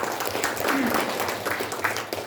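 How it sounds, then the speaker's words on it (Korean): Applause from the audience at a ceremony launching a committee for honoring independence activists, moderate and fairly close, with a voice faintly over it. "다시 한번 큰 박수 부탁드립니다"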